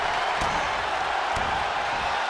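Loud arena crowd roar in the WWE 2K20 wrestling game, a steady dense wash of cheering noise throughout with no clear individual voices.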